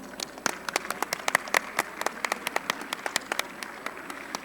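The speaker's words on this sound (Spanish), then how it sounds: "les pido un aplauso para Yanel" Sparse, distinct claps from a small audience at an online education event, a handful of hands clapping unevenly and fairly faintly over a low background.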